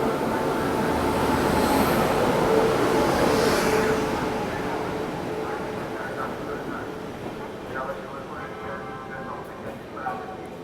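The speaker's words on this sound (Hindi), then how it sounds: "गणगौर एक्सप्रेस। बिल्कुल चिपक के आ रही है गणगौर।" The steady rumble and rattle of a passenger train running on an adjacent track, the Gangaur Express hauled by a WAP 7 locomotive, heard from inside another moving train and swelling, then easing off.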